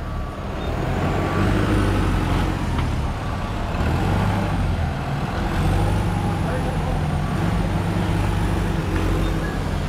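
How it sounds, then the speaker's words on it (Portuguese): Trucks rolling aboard the Santa Rosa river ferry from Belém to Breves, diesel engines idling and rumbling in low steady waves, with a faint tonal whine and someone talking over the noise. "Ela tá embarcando agora os caminhões aí,"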